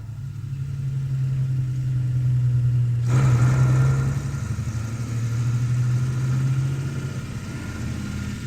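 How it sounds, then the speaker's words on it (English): A convoy of WW2 German 4x4 tractor lorries rumbles past with a steady low engine drone, one heavy-duty Zugmaschine towing a liquid oxygen tanker, loud and continuous with a rise in noise midway. "A heavy-duty 4x4x2 Zugmaschine tows the all-important liquid oxygen fuel container."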